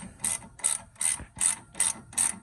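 Torque wrench ratcheting on a Chevy Silverado front shock bolt, six evenly spaced crisp clicking bursts close up, with no talking.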